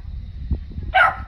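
A female dog lets out a single short, sharp bark near the end, preceded by a soft low grunt.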